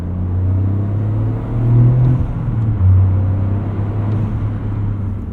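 A 2023 Toyota GR Corolla Morizo Edition drives on a chilly 42-degree day, its engine drone steady and close from the cabin, swelling briefly twice as the revs climb and settle.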